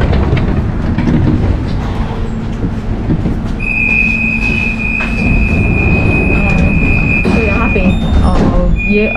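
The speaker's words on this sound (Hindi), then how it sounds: "तो अभी हम ये ट्राम में जाते हैं" A tram in Germany running close by, with a loud rumble of rolling wheels, a long high squeal from the rails and clicking over joints, while people talk over the noise.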